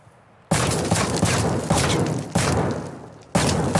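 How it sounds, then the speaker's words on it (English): Heavy sustained gunfire in Call of Duty Modern Warfare 2, loud close bursts starting abruptly and rolling on in several long volleys with brief breaks. "Really trying to shoot through there."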